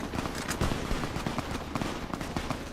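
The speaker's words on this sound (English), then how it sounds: "Man, that is a lot of gunfire, and I'm not seeing anything on the horizon" Distant gunfire rolls on without pause in Fallout: New Vegas, a dense crackle of many overlapping shots with sharper bursts standing out from a continuous rattling backdrop.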